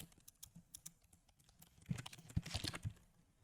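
Typing on a computer keyboard to enter a first and last name: quiet, close clicking keystrokes in an irregular rhythm, picking up to a quicker flurry near the end.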